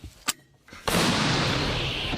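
A single old American 105 mm artillery gun fires with a sharp, booming crack, followed by a long rolling roar that echoes across open ground; a faint thud comes before it.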